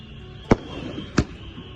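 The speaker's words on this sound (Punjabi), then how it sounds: "ਪਟਾਕੇ ਚਲਾ ਕੇ ਮੈਂਬਰ ਦੀ ਐਂਟਰੀ ਜਿਹੜੀ ਮਰਾਈ ਜਾ ਰਹੀ ਆ" Two sharp firecracker bangs about seven tenths of a second apart, set off in a Punjabi village to welcome a newly elected panchayat member, each loud crack standing out over low background hubbub.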